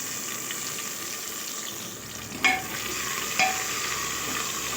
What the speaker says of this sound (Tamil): அதே அதில் சேர்த்து நல்லா கிளறி கொடுத்துக்கலாம்.